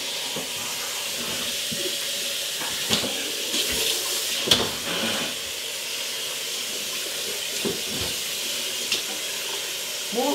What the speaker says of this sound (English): Now I'm going to rinse it off and then I'll put it in the roasting pan.